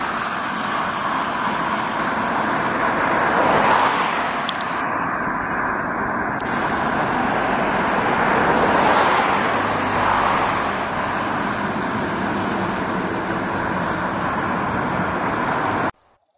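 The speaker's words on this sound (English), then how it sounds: "Look at all the traffic coming out from Aberdeen to congest Westhill." Road traffic streams out of Aberdeen toward Westhill, a steady broad roadway roar with passing cars swelling and fading repeatedly over sixteen seconds and no voices.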